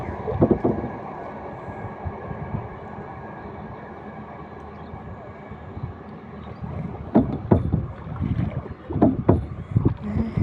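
A kayak paddled on a city waterway dotted with water hyacinth beside a metro rail line, giving steady water swishes and rhythmic paddle splashes that build into louder strokes near the end.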